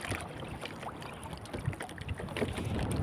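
Strong wind buffets the microphone at sea from a small boat during traditional handline fishing in the Philippines, a steady broadband roar with gusts swelling louder toward the end, no speech.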